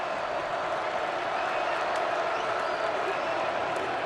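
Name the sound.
split crowd of football fans cheering in stadium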